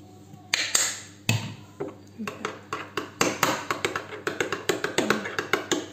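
Oven potatoes being mixed with ketchup in a dish: a utensil knocks and scrapes against the dish in a quick, uneven run of close, fairly loud clinks.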